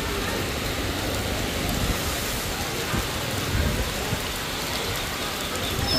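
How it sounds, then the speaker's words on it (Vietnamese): Heavy, steady rain pours down on a rural market in a dense, continuous roar, drumming on nearby surfaces with no pauses. "Mưa dữ dội luôn"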